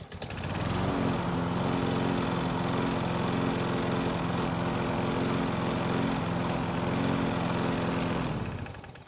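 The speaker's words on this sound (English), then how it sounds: "it's time to see if the engine will start back up after a hot shutdown" A Toro lawn mower with a repaired carburetor fires up after a hot shutdown and runs at a steady, close, buzzing idle, cutting off near the end.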